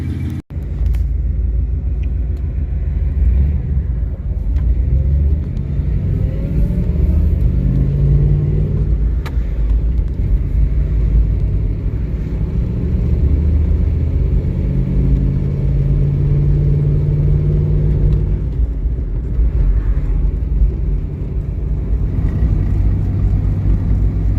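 A 1963 Studebaker Champ pickup truck driving along a road, its engine giving a steady low rumble close by for the whole stretch, with gentle rises as it accelerates and no talking.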